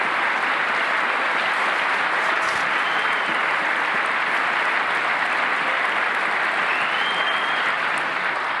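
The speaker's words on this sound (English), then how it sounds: "He's not supposed to clap, by the way." Sustained, loud applause from a large audience at the 2018 State of the Union address, a dense continuous roar of clapping filling the hall without letup.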